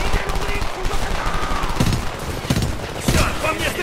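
Rapid automatic gunfire in the shooter Homefront, dense bursts of machine-gun shots with sharp cracks and rattling under continuous battle noise while someone talks excitedly.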